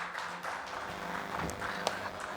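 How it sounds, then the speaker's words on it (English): An audience at an automotive awards ceremony claps for a TV auto editor being welcomed on stage, a brief patter of applause under a busy hall ambience. "Huge round of applause for Mr."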